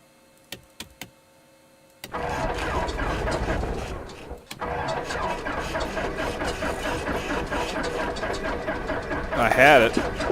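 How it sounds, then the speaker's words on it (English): An aircraft engine in the X-Plane 11 flight simulator cranks and catches after a few clicks, then settles into a steady mid-pitched running drone, with a brief rising tone near the end. "Alright, ignition switch to start."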